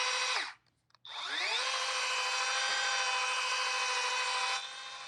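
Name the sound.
rotary buffer polishing car paint with a pad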